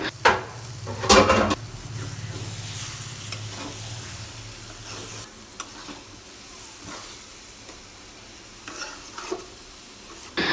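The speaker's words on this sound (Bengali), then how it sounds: "একটু ভাজা ভাজা হওয়া পর্যন্ত নাড়তে থাকবো।" Egg frying in a pan and stirred over a medium flame while making a Bengali fried egg dish, a steady close sizzle with scraping stirs that fades after five seconds into quieter crackle, no voices.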